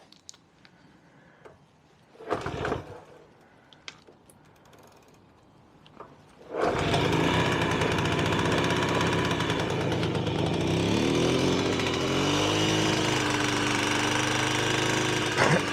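A 1974 Piaggio Vespa Ciao moped engine kicks into life after a few quiet mechanical clicks and a brief rattle, then runs steadily and loudly with a buzzing two-stroke idle that wavers slightly in pitch.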